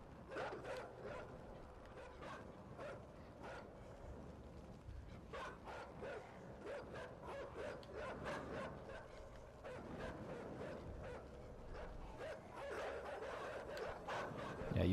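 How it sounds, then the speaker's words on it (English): Dogs bark repeatedly in the video game Inside, an uneven run of yips and barks at moderate distance over a low rumbling background. "I hear dogs."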